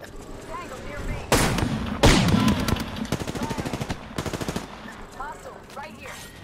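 Rapid automatic gunfire rattles loudly in an Apex Legends firefight, with dense bursts and a long string of individual shots that taper off. Voices come through in game callouts.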